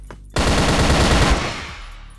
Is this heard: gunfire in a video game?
yes